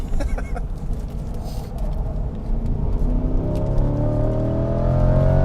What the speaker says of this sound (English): beautiful sounding, atmospheric V8. It is a belter of an engine.